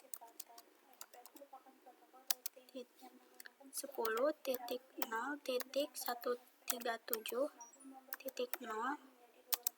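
Typing a command on a computer keyboard, scattered light clicks and taps heard faintly beneath steady nearby speech.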